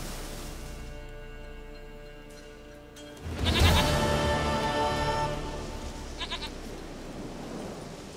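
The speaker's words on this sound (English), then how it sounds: "Goat of mine, dearest, sweetest goat." A goat in a video game gives one loud, wavering bleat partway through, over a soft, steady background tone.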